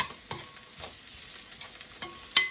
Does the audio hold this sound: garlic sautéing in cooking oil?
yes